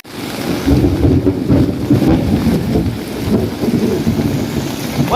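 Steady rain with gusting wind during the Philippine rainy season, a dense, continuous wash of noise with low rumbling buffets on the microphone, loud and constant throughout without talk.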